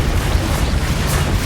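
A Confringo fire spell explodes in Hogwarts Legacy, giving a dense, sustained low booming rumble that stays loud and steady for the whole stretch, with a brighter burst near the end.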